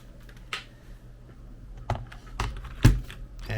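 Typing on a ROCCAT Vulcan 122 Aimo RGB mechanical keyboard: scattered key clicks at an uneven pace, soft and fairly distant, with a few louder strikes toward the end over low room noise.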